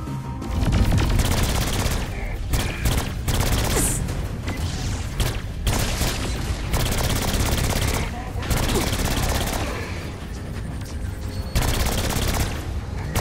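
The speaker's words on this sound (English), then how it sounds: "here's some bonus explosions" Loud bursts of gunfire and booming explosions from the video game Saints Row 4 crash in rapid succession, dense and chaotic, with voices shouting in between.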